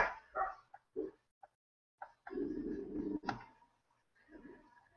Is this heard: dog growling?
yes